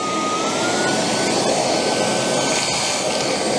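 EGO cordless vacuum running at speed 2 while sucking up bits of metal, a loud steady high whine with a rushing airflow roar, close and constant, with no talking.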